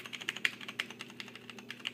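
Typing on a Compaq MX 11800 mechanical keyboard with tactile, non-clicky Cherry MX Brown switches, heard as a steady run of close, fairly quiet keystrokes with a few sharper presses.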